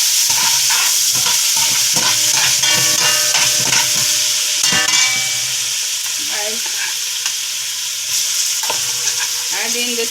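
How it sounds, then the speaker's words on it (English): Garlic frying in a hot pot for a Jamaican-style chicken, bok choy and yellow rice dish. A loud, continuous close sizzle is broken by frequent scraping stirs of a utensil against the pot. "I'm gonna add in the garlic"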